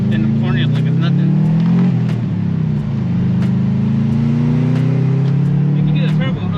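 A Subaru WRX's turbocharged engine droning steadily as the all-wheel-drive car accelerates, a loud, sustained in-cabin hum rising slightly in pitch with a brief gear change, as people talk inside the car.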